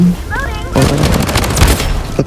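Rapid MP5 submachine gun bursts from the BloodStrike shooter game crackle loudly in quick rattling volleys, with a voice talking over the shots.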